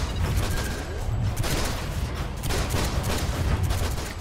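In the video game DC Universe Online, a villain character escaping Brainiac's ship fires rapid, loud bursts of gunfire at a robot crab, in closely spaced volleys with no break.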